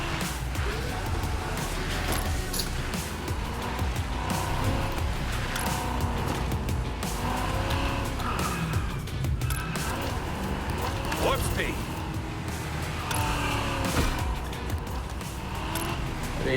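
A car engine in a racing video game drones steadily with occasional impact noises, heard under excited, continuous talking from a player.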